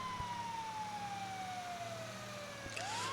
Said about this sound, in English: We'll turn our sirens on so that people can hear us coming.